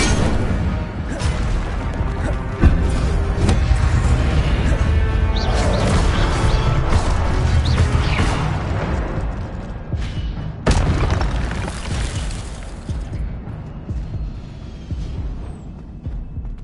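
Fire spells cast in the Hogwarts Legacy video game produce a dense, continuous roaring whoosh with booming impacts and crashes, loud and full throughout, with a sharp burst partway through before the roar tapers off.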